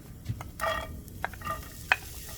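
Onion goes into a hot pan after cooked chicken is removed, giving a quiet sizzle with a few scraping stirs and clinks from a utensil, close and faint.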